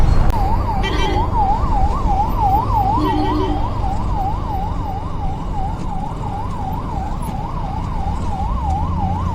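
An ambulance siren wails in a fast, even up-and-down pattern for the whole stretch, loud and close over road and traffic rumble, heard from a motorcycle on the hairpin-bend road up Kolli Hills, India.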